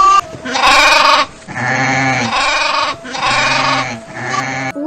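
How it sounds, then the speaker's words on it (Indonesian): Sheep bleating loudly and repeatedly while being carried, several long wavering bleats close up with short gaps between them and no talk. "Mereka tidak tahu bahwa Uwais menggendong domba untuk melatih dirinya agar kuat menggendong ibunya dari Yaman menuju Makkah"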